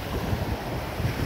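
Surf washes onto a Florida beach at Blind Pass, a steady broadband wash of waves mixed with wind buffeting the microphone, continuous and close with no voices.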